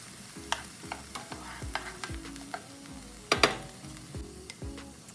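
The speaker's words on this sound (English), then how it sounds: "I'm going to saute that for a couple minutes. Toss in a little butter" Chopped garlic and butter sautéing in a pan for a Cajun pasta, a steady low sizzle with regular scraping strokes of a utensil stirring it around and one louder clatter near the end, no talking.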